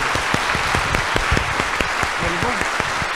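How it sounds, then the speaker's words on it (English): An audience at a meditation day of practice applauds the event volunteers, a continuous wash of many hands with some distinct nearby claps and a voice briefly rising over it. "I hope that you could join me in giving them a round of applause"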